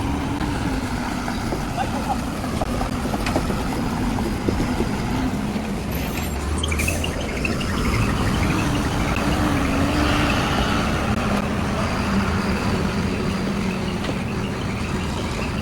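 A truck engine runs steadily as the vehicle pulls aside on a long-haul trip toward Ballari, a continuous low rumble with road noise throughout, a brief hiss partway through.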